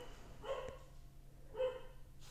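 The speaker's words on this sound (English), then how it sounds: "I'm gonna wait for my dog to stop barking" A dog barks twice, muffled and somewhat distant, about a second apart, against a low steady hum in an otherwise quiet room.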